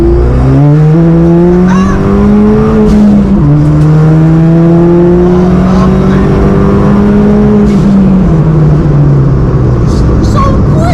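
Loud Ford Fiesta ST engine, Revo Stage 2 tuned to 250 bhp, revving up through second gear, its pitch climbing, dropping at the shift, then climbing again, with tire noise underneath.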